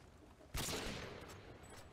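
Gunfire in Modern Warfare 2, a single sharp shot or short burst that bursts in loudly after a quiet half second, then a sustained noisy wash of game sound trailing off behind it.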